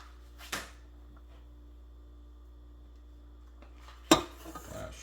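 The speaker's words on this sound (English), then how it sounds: "3 eggs going in" Eggs dropped into a mixing bowl for butterflake dinner roll dough, with two sharp clinks against the bowl several seconds apart over a steady background hum, the second one louder and followed by brief clattering.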